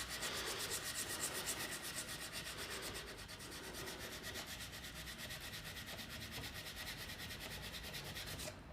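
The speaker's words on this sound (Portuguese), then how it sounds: "Agora eu vou passar na preta, numa lixa 300, pode ser uma 180, pode ser uma 200, 220." Wood is hand-sanded with 300 grit sandpaper in steady, continuous back-and-forth rubbing strokes, close and even throughout with no talking.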